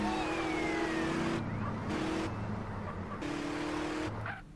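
A car is driven in GTA San Andreas. Its engine drones close and loud with shifting revs, tires squeal briefly in places, and faint siren-like tones run underneath.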